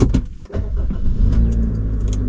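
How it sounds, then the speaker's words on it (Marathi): A car engine, started after sitting unused for many days, turns over and catches, settling into a steady idle hum nearby, with a few clicks and knocks at the start. "गाडी जरा आपली ऑन करून बघूया भरपूर दिवसांनी हे टाकलं आतमध्ये हे झालं इंजिन चालू"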